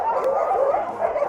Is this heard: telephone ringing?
no